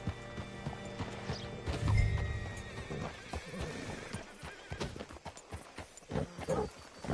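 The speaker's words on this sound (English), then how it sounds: "Hitch your horse up here." Horse hooves clip-clop in a steady trotting rhythm in the video game Red Dead Redemption 2, with a horse snorting or whinnying partway through and faint ambient background noise.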